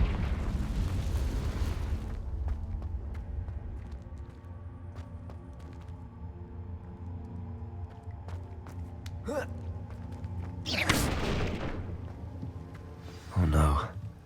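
A Confringo blasting spell explodes in the video game Hogwarts Legacy, with sharp bursts near the end over a steady rumbling game soundscape and music bed, and spoken dialogue earlier.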